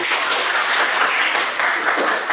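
A classroom group claps together in a steady, dense burst of hand clapping that stays loud and even throughout its short span, with no voices standing out.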